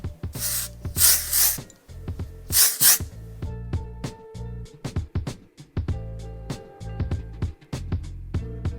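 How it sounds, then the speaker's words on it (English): Two long hissing bursts of an aerosol hair texture spray, near and loud, followed by rustling and clicking handling sounds. "I'm going to cascade it while I spray."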